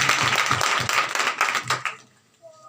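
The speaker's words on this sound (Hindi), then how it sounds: "जोरदार तालियां बजाइए यीशु मसीह के लिए" Audience at a one-day women's church seminar clapping loudly, a dense burst of applause lasting about two seconds that stops abruptly, followed by near silence.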